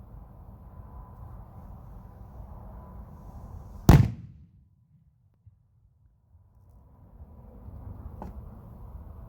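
A Cherry Blaster firework salute shell bursts once in a single sharp, very loud boom, followed by a short rumble, then quiet, with outdoor background noise before and after.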